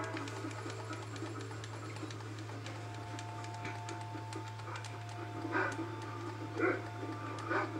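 Dogs in the video game Red Dead Redemption, a few faint distant barks and yips over a steady low hum and ambient game sounds.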